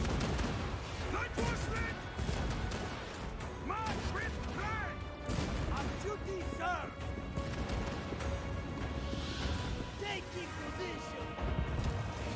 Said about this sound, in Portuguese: Essa artilharia não é muito boa não, mano.